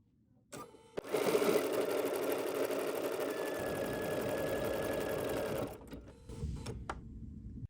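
A sewing machine stitches a small pumpkin-themed quilt wall hanging with stitch number 1304, a steady close mechanical whir and rapid clatter starting after a tap, running about five seconds, then stopping and briefly resuming.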